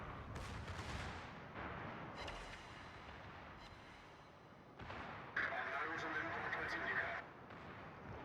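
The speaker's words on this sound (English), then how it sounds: "Secondaries are firing on Gneisenau" Secondary guns on a ship fire at the Gneisenau in World of Warships, producing a string of muffled, rumbling booms and a brighter crackling salvo near the end, all heard faintly beneath the game's background noise.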